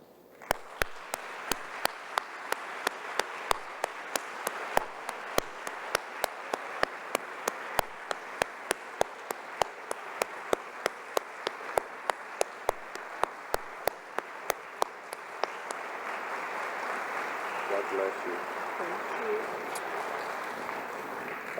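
At a charity concert, an audience welcomes a performer with applause: sharp, evenly spaced claps sound over a bed of crowd noise for about fifteen seconds, then give way to a softer murmur with a brief voice.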